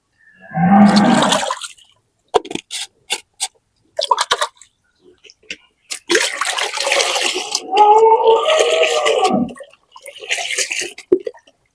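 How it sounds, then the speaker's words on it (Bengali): A cow on a farm is doused with potassium permanganate water, heard as close, loud splashing gushes in separate bursts, with short drips and quiet gaps between them. "পটাশ পানি দিয়ে আগে ভালোভাবে গরুটাকে ধুয়ে নেবো"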